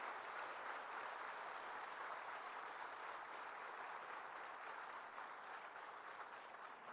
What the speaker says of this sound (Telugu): మీరు పెద్ద ఎత్తున వారిని చప్పట్లతో అభినందించండి.